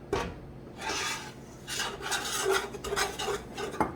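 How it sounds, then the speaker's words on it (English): A utensil scrapes and rubs through a roux of heated oil and flour for chicken and sausage gumbo, making repeated rasping strokes in an uneven rhythm, close and clear with no talk. "As you're heating it on medium low to low heat, you want to stir it."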